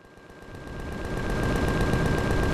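Spaceship guns in the space game Empyrion fire in a fast, evenly pulsing stream of shots at an enemy ship, building louder over a low rumble, close and with no voices.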